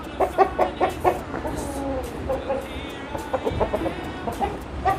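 An aseel rooster clucks in bursts of short, throaty pulses, close and fairly loud. A faint voice drifts in between the calls.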